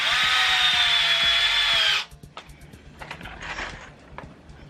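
A power drill whines loudly and steadily for about two seconds while driving a screw into a wooden ramp extension joint, then stops, leaving faint clicks and handling knocks.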